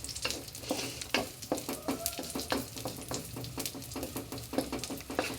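Raisins roasting in a pan for laddoo give a steady crackling sizzle, with frequent sharp stirring scrapes in an uneven rhythm, close and moderately loud.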